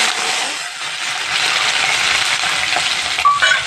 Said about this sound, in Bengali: জিরে তেজপাতা দিয়ে সম্বাদ দেবো। 2টো তেজপাতা 2 টুকরো করে দিলাম, আর জিরে দিলাম।